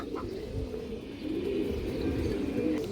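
Pigeons coo softly and steadily close by, a low rolling burble that carries on for a few seconds with no talking.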